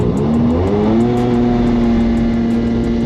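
A well-used year 2000 Yamaha GP1200R jet ski runs on a water test track after pump work, its engine holding a loud, steady drone that rises slightly in pitch, with no talking.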